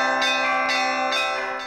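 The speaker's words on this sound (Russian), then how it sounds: "все пространство музея заполнил перезвон колоколов" The Russian belfry Sofia rings a peal inside a museum: several bell strikes in quick succession, each a bright metallic clang with long shimmering overtones that overlap and slowly fade, loud and close.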